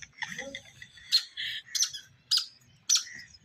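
Pigeons give short, high squeaks and squawks, several separate bursts in quick succession, close by, over a faint low murmur.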